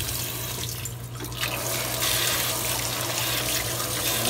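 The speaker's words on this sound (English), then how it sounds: "Now we're putting mostly cold water." Cold tap water runs and splashes into a container being filled to wash raw pork, a steady rushing stream that swells briefly louder partway through, close and alone with no talking.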